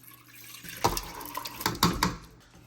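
Sella basmati rice poured into a pot of water for mutton pulao, giving a few close, soft splashes and trickling water sounds in quick succession, fairly quiet with no talk.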